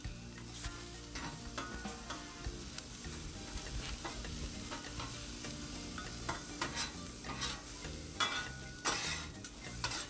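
Onions fry on a Blackstone griddle, a soft steady sizzle under repeated scraping and tapping of metal spatulas stirring and gathering them, fairly quiet and continuous, with no talking.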